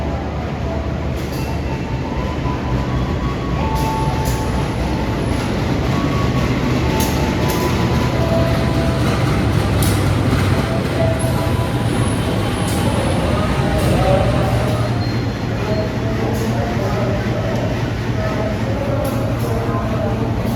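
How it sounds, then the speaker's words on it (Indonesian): The Kahuripan economy train rolls into Lempuyangan station, a loud continuous rumble of wheels and carriages with intermittent high squeals and bursts of noise amid station ambience. "Kereta api Kauripan tiba di stasiun Lempuyangan."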